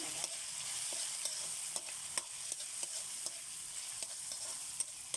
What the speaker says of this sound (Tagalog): Lagay na natin ng pork at taba-taba. Haluin.